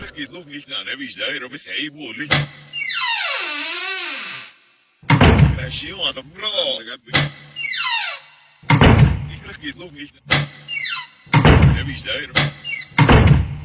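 Sharp, heavy thuds of a room door shutting land several times in a horror story, with a voice narrating between them and eerie sweeping tones.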